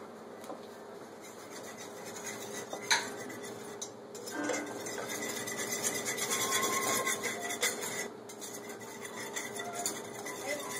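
Dry baking ingredients being stirred together in a bowl, giving a steady, close rasping scrape with a few sharper knocks against the bowl, running continuously without speech.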